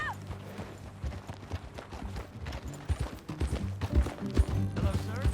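Horse hooves clip-clopping in a steady riding rhythm in the Red Dead Redemption II video game, fairly close, with a few brief voices and game sounds mixed in.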